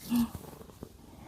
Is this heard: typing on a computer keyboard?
no